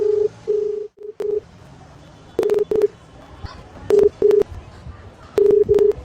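A phone call's ringback tone repeats in short paired bursts separated by silent gaps, loud and close, with no talk over it.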